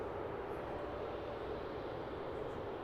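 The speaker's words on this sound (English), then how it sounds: "Katowice for this Wizz Air A321neo." A Wizz Air A321neo jet departing Luton Airport gives a steady, broad engine roar that holds evenly throughout, distant to mid-range and without voices.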